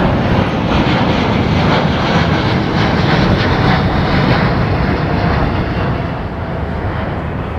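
Loud, steady roar of jet airliner engines close by at London Heathrow Airport, a broad rumbling whine that holds constant throughout and fades slightly near the end.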